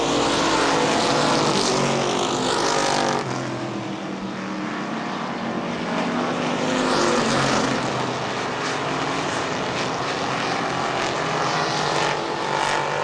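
Street stock race cars racing at Baer Field Speedway, a loud continuous roar of engines with cars sweeping past close by, their pitch rising and falling as they pass.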